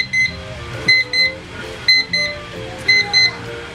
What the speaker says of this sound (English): then it beeps when it gets to the end.